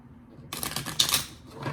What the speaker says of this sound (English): Shuffle the old way.